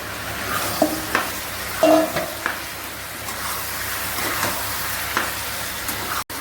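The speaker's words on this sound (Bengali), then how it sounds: "এখন আমি এই কাঁঠাল আর আলুটাও দিয়ে দিব।" Jackfruit and potato pieces are stirred into a hot pan of yogurt-coated biryani masala, a gentle sizzle of frying running throughout with a few louder scraping stirs near the start.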